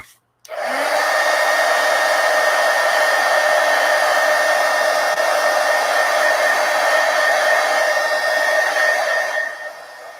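A hair dryer blows on freshly applied black paint in a mixed-media art project, switching on after a brief silence and roaring loudly and steadily at close range for about nine seconds before cutting off.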